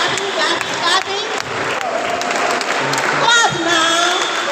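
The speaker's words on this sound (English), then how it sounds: "Please let's keep clapping." Applause and crowd noise from an audience at a postgraduate nursing research seminar, a steady wash of clapping with voices mixed in throughout.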